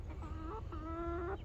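Backyard chickens give a few short, close clucks and soft rising calls in a quick burst, with no talking over them.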